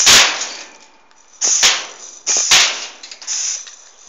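A homemade BB gun built from a fire extinguisher and charged to 75 PSI fires at a metal shed outdoors, several sharp air-pop shots each followed by a bright metallic ping and rattle, with no talking.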